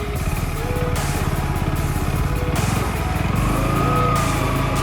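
Motorcycle engine running loud and close throughout a ride near Mathur in Kanyakumari, a steady rapid throbbing drone with a slight rise toward the end and no talking.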